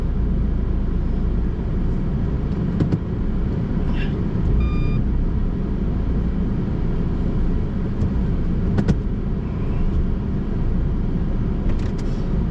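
An old Ford Fairlane idles and rumbles steadily while being manoeuvred around a tight corner near a back gate, a continuous low engine drone with a few faint clicks and a brief high beep partway through.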